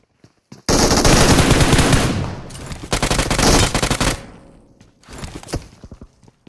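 A UMP submachine gun fires in a video game in two loud, close rapid bursts, the first one long and the second shorter, followed by a few scattered single shots.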